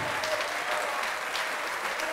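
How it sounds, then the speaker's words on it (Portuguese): A church congregation claps in praise at a lively worship service, a continuous, even roar of applause held close and steady throughout. "Vamos aplaudir ao nome de Jesus."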